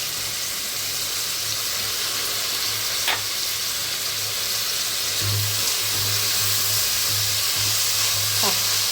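Mint leaves sautéing in a pan, a steady broadband sizzle and frying hiss running throughout with a couple of faint scraping strokes, plus a low hum underneath; no talking.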